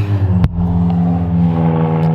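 A car engine running on Prime drink instead of motor oil: a sharp click, then a steady low mechanical rumble and whir that holds fairly loud and close.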